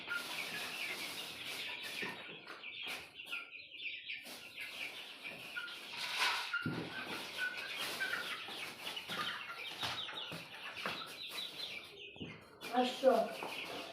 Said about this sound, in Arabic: بحوط على الفراخ بتاعتي اهو عشان احط لهم الاكل بتاعهم.